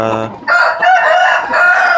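A fighting rooster gives a single loud, close crow that rises and holds a strained, raspy note for about a second and a half, with faint background noise around it.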